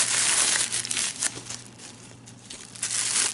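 Pink wrapping paper crinkling and rustling continuously close up, with a few louder crackly bursts and no voices.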